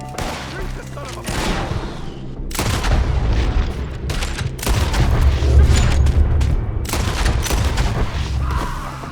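Heavy gunfire from a Red Dead Redemption 2 shootout: repeated booming shots and volleys in thick, overlapping bursts, with shouting voices underneath.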